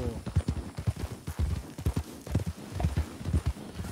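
Arabian horse hooves clip-clopping at a steady walking rhythm in the open-world game Red Dead Redemption 2, riding through cactus country, fairly close and continuous with a voice talking over it.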